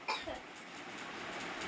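A child with a cold who has been coughing since morning lets out a brief cough near the microphone indoors, followed by a short raspy throat sound, with no talking.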